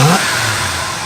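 An Oldsmobile engine, abandoned in a barn for 23 years, revs hard and then holds a steady, loud roar, close by with no voices.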